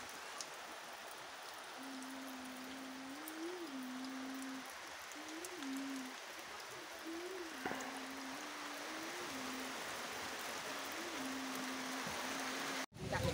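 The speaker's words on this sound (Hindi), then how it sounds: "थोड़ी थोड़ी बारिश हो रहा है वैसे" Light rain falls outdoors as a steady soft hiss, with a faint wavering tonal hum running through it and a brief bump near the end.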